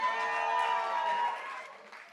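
Audience at a live comedy and music show at The Bedford claps and cheers for a departing act, a dense steady burst of applause that holds strong then tapers off over about two seconds.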